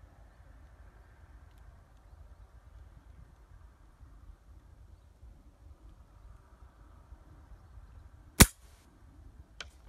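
An airgun fires at a 200 yard target outdoors, a single sharp crack late in the clip, with a faint second report just after, over a quiet background of low rumble.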